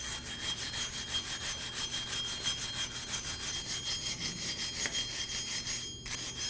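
A wire brush scrubbing rust and debris off the wheel hub of a 2017-2024 Nissan Armada, a rapid rhythmic back-and-forth rasping that carries on steadily at close range before stopping near the end.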